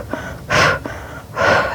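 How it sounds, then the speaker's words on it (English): Two forceful, breathy exhales during Pilates hundreds, each a short hissing push of air about a second apart, close and clear with soft inhales between. "Now just 5 exhales out as you pump your arms"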